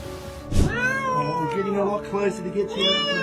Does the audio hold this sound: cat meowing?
yes